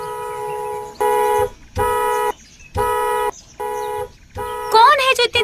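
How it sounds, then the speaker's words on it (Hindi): Loud car horn honks in a zombie attack scene from a Hindi-dubbed Hollywood film: four long steady blasts with short gaps, followed by a sudden burst of noise and voices at the end. "कौन है जो इतनी तेज हॉर्न बजा रहा है?"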